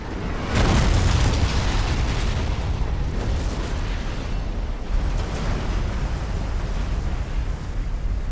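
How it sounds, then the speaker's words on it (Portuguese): Massive explosion in Resident Evil 2 Remake as a laboratory self-destructs and consumes a train car, a loud sustained blast roaring and rumbling for several seconds. "com a autodestruição do laboratório, o vagão e William Birkin são totalmente consumidos na explosão"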